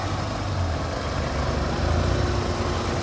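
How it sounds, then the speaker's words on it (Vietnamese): A manual-transmission Mercedes-Benz C200 idles smoothly, its engine giving a steady low rumble that holds even for three seconds, close and continuous with no speech. "Và phần những máy nổ này, máy đang hoạt động rất là êm này."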